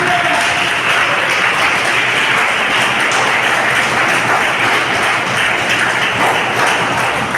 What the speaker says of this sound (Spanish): Denle un aplauso fuerte al Señor, hermano.